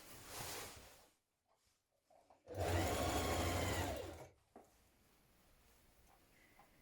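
Sewing machine stitching the hem of a long coat, a short burst near the start, then a loud steady run of about a second and a half, followed by quiet handling noises.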